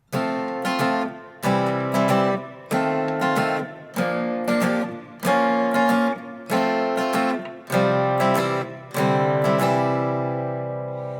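Steady rhythmic strumming of full guitar chords from a song's violin intro, one strum roughly every second, ringing out between strokes, with the last chord left to sustain.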